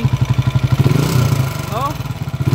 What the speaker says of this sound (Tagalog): Tapos yung makina niya ito, napakaingay.